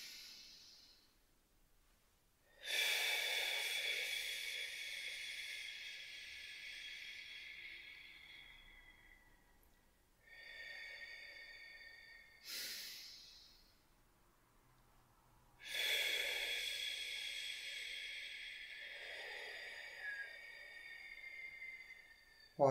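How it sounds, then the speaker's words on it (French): Slow deep abdominal breaths in a guided relaxation exercise, with long airy inhales and exhales that come in three or four broad swells separated by quiet pauses, close and fairly soft, with no talking. "c'est juste un petit exercice de respiration comme ça"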